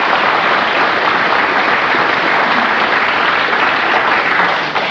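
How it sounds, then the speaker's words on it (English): A studio quiz audience applauds a winner with steady, dense clapping, loud and unbroken for several seconds, with no voices over it. "He gets a book token and a round of applause"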